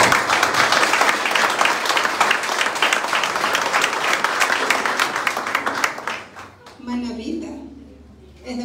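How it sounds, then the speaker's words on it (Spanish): Welcoming applause for Guillermo Celis Santos at a political party event in El Oro, a loud, dense crowd clapping that fills several seconds before fading out, followed by quieter sounds. "queremos dar un fuerte aplauso de bienvenida a Guillermo Celis Santos"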